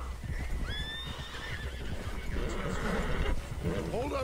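Horses in the video game Red Dead Redemption 2 whinny and snort over clopping hooves, with a voice murmuring beneath the animal sounds throughout the short stretch.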